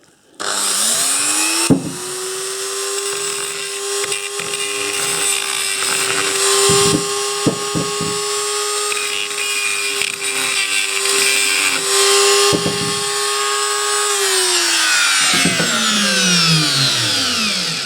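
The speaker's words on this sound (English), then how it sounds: "I'm just using the flat end of that one to get rid of that burr down there" A powered rotary tool grinds a burr off a brake casting, a close, steady high motor whine with scratchy contact noise and brief bumps, winding down at the end.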